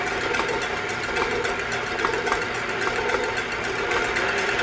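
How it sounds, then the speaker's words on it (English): An electric mixer beats three eggs on a slow setting, giving a steady, close mechanical whir that runs on evenly throughout without any talk. "three eggs into our mixer. Start it off slowly."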